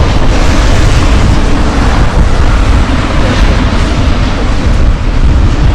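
Strong wind buffets the microphone beside Traunsee lake in Gmunden, Austria, a loud, constant roaring rumble that never lets up, with no voices.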